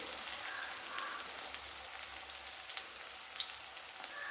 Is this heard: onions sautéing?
yes